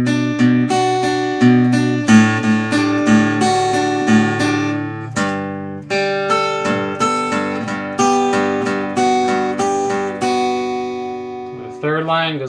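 An electric guitar plays the second line of the pre-chorus of A Day to Remember's "You Had Me At Hello", loud, clear strummed and picked chords in a steady rhythm with short pauses between phrases.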